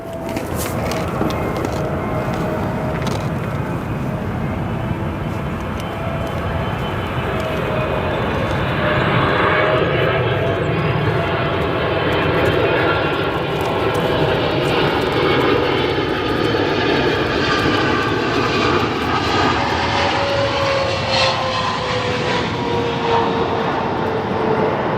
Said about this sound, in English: nice landing there for Turkish Cargo Flight 6060 coming in from Istanbul